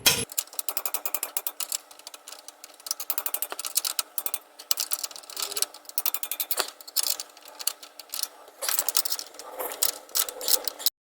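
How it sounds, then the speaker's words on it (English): A ratcheting wrench works a nut on the upper control arm bolt of a 2011 Mercedes GLK 350 4Matic, giving a rapid, continuous train of close, dry clicks in uneven bursts, alone without talk. "the wrench is on. And I can tell you this one takes a little turning."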